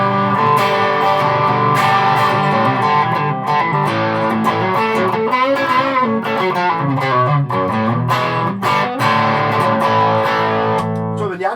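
Electric guitar played through a VOX MV50 amp with a Rat distortion pedal, heavily distorted chords and riffs, loud and continuous, with no talking.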